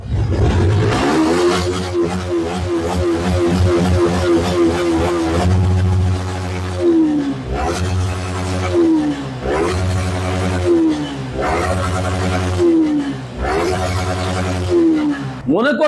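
A Yamaha R15 V3 motorcycle engine revs repeatedly in loud, rising bursts, each throttle blip climbing then dropping back to idle, close and continuous.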